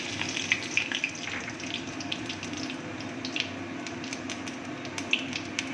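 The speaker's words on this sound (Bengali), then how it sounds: "তেলটা আমার গরম হয়ে গেছে। আমি এবার সাদা জিরে, গোটা শুকনো লঙ্কা, তেজপাতা ফোড়ন দিয়ে দেবো।" Whole cumin seeds, dried red chillies and bay leaves tempering in hot oil, giving a steady soft sizzle with scattered small crackles and pops, close and alone with no voices.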